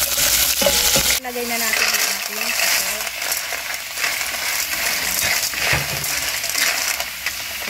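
Onion and garlic sizzle and crackle in a hot pan while being stirred, with a steady frying hiss throughout and a person speaking briefly over it.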